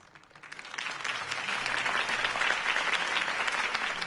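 A crowd applauds at a political campaign rally for Harvey Dent in Batman: The Telltale Series, the clapping swelling after a brief quiet start into dense, steady applause.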